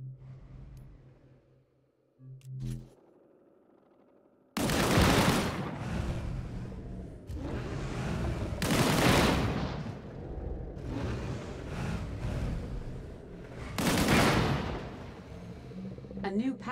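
Several loud, booming bursts of gunfire and blasts ring out at intervals in the video game Disintegration, each with a long rumbling tail, and voices speak in between.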